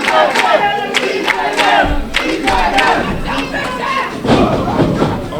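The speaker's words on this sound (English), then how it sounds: "Philadelphia crowd behind Cheeseburger right now" A Philadelphia crowd at a wrestling event cheers and yells loudly, with chanting voices, sharp claps and thuds in a boisterous, close roar throughout.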